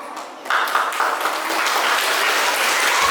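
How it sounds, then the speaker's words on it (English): A large audience at an Independence Day celebration applauds a school dance performance, broad continuous clapping swelling after a brief quieter start and holding steady to the end. "Let's welcome them with a thunderous round of applause."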